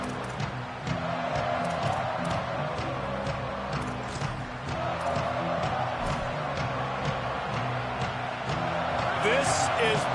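A stadium crowd roars steadily through an LSU versus Ohio State college football video game, a constant dense wash of cheering that runs under continuous commentator talk.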